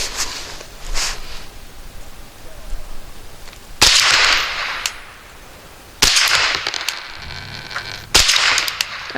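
Thompson Center TCR22 rifle firing CCI 40 grain copper plated ammunition, three loud, sharp shots at intervals of about two seconds, each with a ringing tail, following softer handling noises, close by with no talk.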